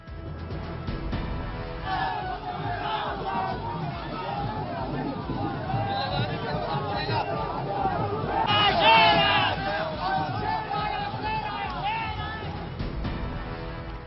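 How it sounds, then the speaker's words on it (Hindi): Large crowd at Ghulam Nabi Azad's road show in Jammu shouting and chanting slogans, a dense roar of voices that swells loudest midway. "शेर के गूंजे नारे।"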